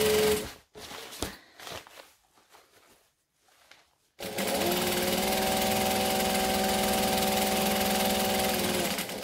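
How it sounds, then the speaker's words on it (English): A sewing machine basting a seam at an eighth of an inch runs in one loud, steady whirring burst after a few seconds of quiet handling noises. "Now I'm just stitching, I'm just basting, sorry, this at an eighth of an inch."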